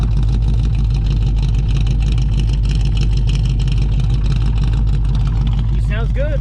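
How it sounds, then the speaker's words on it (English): Ford Mustang V8 running through blast pack exhaust, a loud close burbling idle with a deep rough pulse that holds steady throughout, with a brief voice near the end. "let's listen to those blast packs"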